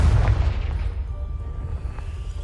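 A Confringo fire spell explodes in the video game Hogwarts Legacy, blasting a pile of debris: a loud, deep boom at the start that rumbles and slowly decays over a couple of seconds, with no talking.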